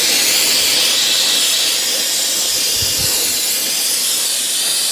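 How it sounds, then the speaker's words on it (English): Steady continuous hiss of brake cleaner sprayed onto a Chrysler 200 front wheel hub, loud and close, running unbroken throughout. "go ahead and clean it with brake cleaner"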